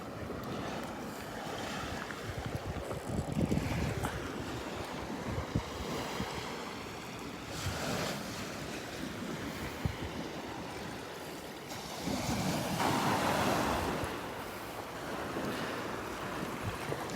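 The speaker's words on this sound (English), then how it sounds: "These waves coming up, pushing everything around." Ocean waves wash up and break on the sand at Delnor-Wiggins beach, a steady, continuous surf roar with swells building around the middle and end, mixed with gusty wind buffeting the microphone and no voices.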